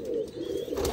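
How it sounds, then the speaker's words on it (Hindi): A pigeon cooing up close, a low, soft, throaty coo held for about a second with no talking over it. "बहुत तेज़ कबूतर है ये देखें"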